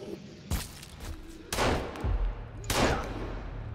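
Three loud, sharp gunshot blasts from the survival video game Sons of the Forest, fired about a second apart, each with a short booming tail over low game ambience.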